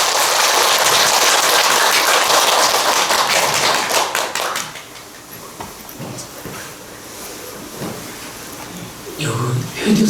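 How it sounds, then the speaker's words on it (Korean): Audience at a Buddhist temple dharma talk applauding for a monk, dense loud clapping for about four seconds, then fading into scattered claps and room noise. "큰 박수로 스님께 법문을 전하겠습니다"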